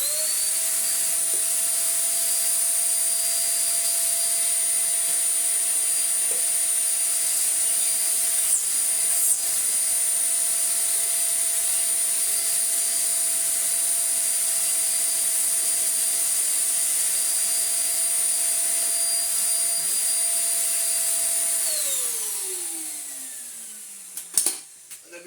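A Morphy Richards Perform-Air 73381 bagless upright vacuum pulls air through its hose with a loud, steady whine and rushing suction. Near the end the motor winds down, leaving a few faint clicks.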